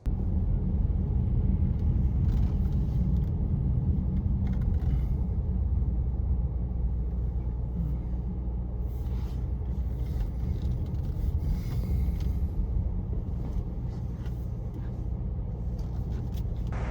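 A Chevrolet Equinox EV travels on the road, a steady low rumble of tyre and road noise inside the cabin that stays constant throughout with faint passing swells.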